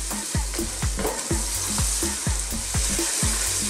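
Tomatoes frying over medium heat for fish biryani, a constant loud sizzle with regular rhythmic knocks and scrapes of a spoon stirring against the pan, about three strokes a second.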